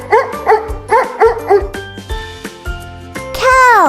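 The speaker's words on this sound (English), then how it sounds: "Dog." A dog barks in a quick rhythmic series of loud, close yaps, followed by a rising whine or yelp at the end, with a faint jingling backdrop.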